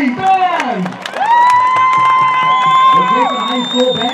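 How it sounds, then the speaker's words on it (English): A high school marching band crowd, for Chapin High School's Mighty Husky Marching Band, cheers and whoops with scattered applause, loud and close, with high shouted voices rising and falling. "let's give a big round of applause for the 2018 Chapin High School Mighty Husky"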